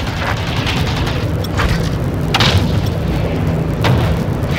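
Repeated heavy booms of artillery shells exploding in Call of Duty Modern Warfare, loud dull thuds landing every second or so over a constant roar of battle noise.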